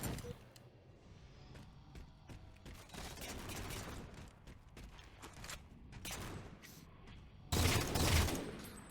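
Pistol gunfire in a shooting video game, a rapid scatter of sharp shots and clattering mechanical clicks over busy background noise, ending in a louder burst of fire near the close.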